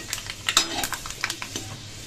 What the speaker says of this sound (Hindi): तो जी तेल हमारा गर्म हो चुका है और इसमें डाल देंगे हम मेथी दाना।